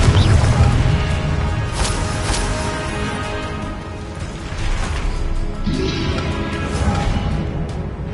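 Confringo, an explosive spell in Hogwarts Legacy, fires amid loud, crackling game action: a rough roar with a couple of bursting crashes spread across several seconds.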